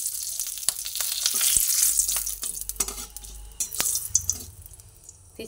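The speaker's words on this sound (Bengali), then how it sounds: "এবারে তেলের মধ্যে একটা তেজপাতা দিয়ে দিলাম।" A bay leaf sizzles in hot oil for an egg curry, a bright steady hiss broken by sharp crackles and a few spoon clicks against the pan, close and without talk.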